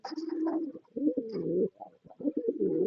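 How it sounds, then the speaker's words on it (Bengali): A male and female pair of fancy pet pigeons coo in soft, throaty bursts, several rolling calls close by with short pauses between them and no talking. "এটা নর এবং ওইটা মাদি কবুতর"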